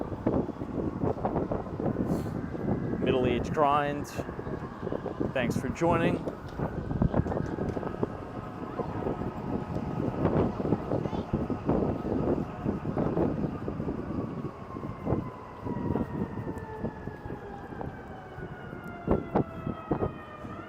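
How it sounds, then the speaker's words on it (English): Wind buffets a street microphone on Broadway in Midtown Manhattan, a steady low rumble under city traffic, a wailing siren and someone talking throughout. "Let me know if you could hear the wind noise in the mic, because the wind is like howling up"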